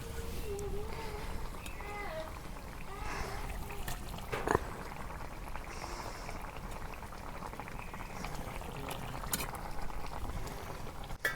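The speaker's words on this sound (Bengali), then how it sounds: "এই দেখো আমার কচুর ডাইগার বলক উঠছে, তরকারি বলক উঠছে।" Taro and fish curry comes to a boil in a pot in a village kitchen, a steady close bubbling that runs the whole time alongside faint background noise and a brief sharp knock midway.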